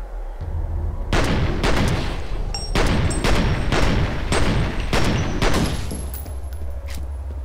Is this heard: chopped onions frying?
no